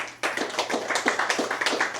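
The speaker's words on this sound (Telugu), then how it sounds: "గట్టిగా చప్పట్లు కొడదాం." An audience at a meditation talk claps loudly after a short pause, with a dense burst of hand claps that stays even for the rest of the moment.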